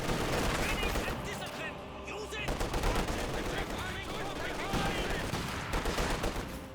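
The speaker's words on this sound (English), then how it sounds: "that's M242 firing away right there" Rapid M242 autocannon fire in a Company of Heroes 2 battle, bursts of loud repeated shots running through the whole stretch amid other explosions and combat noise, with a commentator talking over it.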